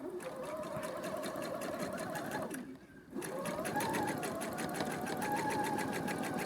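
A sewing machine stitches free motion embroidery in a fast, even mechanical patter, close and steady, pausing briefly partway through before starting up again at the same rapid rate; no speech.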